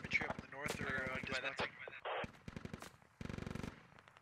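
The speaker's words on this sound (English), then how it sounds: "MGs are firing from the NSVT. You hear it? You hear it shooting." An NSVT heavy machine gun fires in a video game with rapid rhythmic bursts of shots, mixed with other distant gunfire and voices talking.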